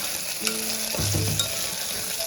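Garlic frying in hot oil in a pan, a soft, close, steady sizzle with a few brief stirring scrapes and clinks partway through, no talk.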